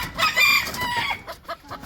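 A table fighter rooster, a small fancy gamecock breed on an exotic chicken farm, crows and clucks up close in a few bursts, loud and clear with no talking.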